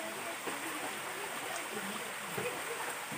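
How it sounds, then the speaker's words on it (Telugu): Water flows in a stream near a cave, a soft, continuous rushing wash that is faint and unbroken throughout. "వాటర్ ఫ్లో అవుతున్నాయి"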